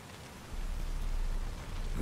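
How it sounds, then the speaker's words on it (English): Rain falls in a steady, dense hiss that thickens after a moment and stays constant, close and fairly loud throughout. "Looks like rain."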